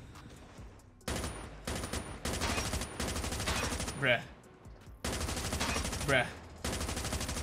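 Gunner weapon in Call of Duty Mobile firing in long sustained automatic bursts, loud and close, with pauses between strings of rapid shots and a brief spoken exclamation in a gap.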